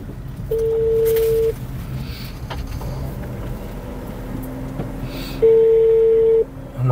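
Phone ringback tone on an unanswered call: two long steady beeps about five seconds apart, with faint road and vehicle noise underneath.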